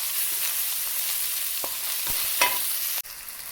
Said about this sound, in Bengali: এখন আমি এটাকে এটার সাথে আদা রসুন পেস্টটাকে পুরো পেঁয়াজ রসুনের সাথে ভেজে নেবেছি